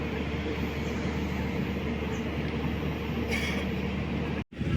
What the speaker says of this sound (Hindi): तो ट्रेन पहुंच चुकी है मडगांव जंक्शन।